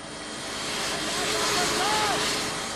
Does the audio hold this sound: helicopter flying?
yes